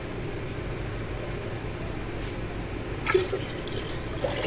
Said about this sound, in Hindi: अब हम इसमें पानी डालेंगे, बर्फ़ डालेंगे